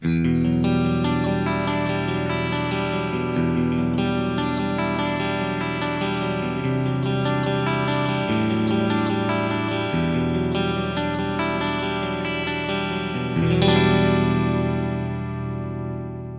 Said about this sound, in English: So this is just reverb and chorus.